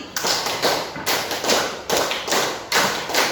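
A sixth-grade primary school class performs a rhythmic clapping pattern, loud unison claps falling in a repeated sequence of sharp strokes, the pattern done twice in a row in a reverberant classroom.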